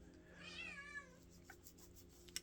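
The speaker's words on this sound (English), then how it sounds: "the dumb cat is making noise again" A cat gives a single drawn-out meow, faint and somewhat distant, over a quiet indoor hum, followed by a couple of small clicks.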